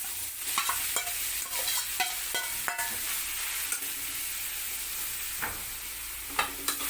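Finely grated carrots sautéing in ghee in a kadhai, a continuous close sizzle with regular spoon scrapes and stirring clatter throughout.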